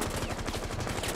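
A quick burst of SMG 11 submachine gun fire in a tactical shooter, rapid shots packed into roughly a second, loud and close.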